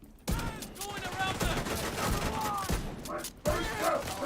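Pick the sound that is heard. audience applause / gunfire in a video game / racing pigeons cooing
gunfire in a video game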